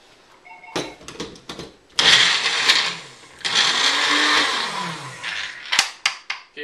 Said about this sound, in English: Vitamix time.